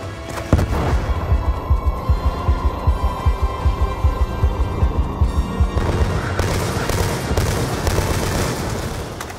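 Sustained automatic gunfire in Call of Duty Black Ops II, a loud rhythmic stream of rapid shots for about six seconds, then a fuller wash of combat noise.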